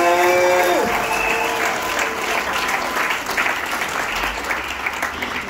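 A church congregation in Matadi bursts into sustained applause, a dense wash of clapping that stays loud and steady throughout, with a brief held tone at the start.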